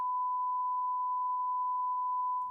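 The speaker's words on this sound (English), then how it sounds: "it's a horrendously loud beep because it's a proper test card with a beep" A proper broadcast test card tone beep, a single loud steady pure tone held unbroken for over two seconds before cutting off abruptly.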